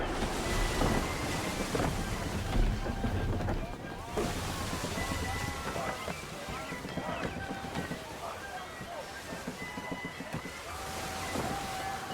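Strong gusting wind roars around a sailing ship at sea in Assassin's Creed 3, a loud, rushing wash of noise mixed with creaking timbers and waves, with shouted voices over it.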